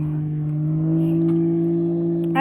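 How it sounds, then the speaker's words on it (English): A loud car nearby gives a steady, droning engine hum that swells slightly in the middle and holds throughout, with no talking over it. "that big ass, damn, loud ass, for nothing ass car"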